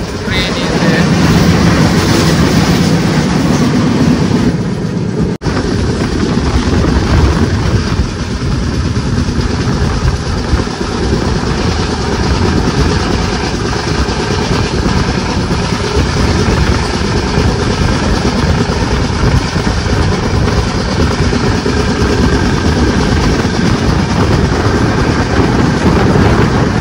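A train accelerates after leaving Kalaburagi station, its steady loud rumble and rattling wheels filling the space from onboard, with a brief clunk early on and faint voices in the background.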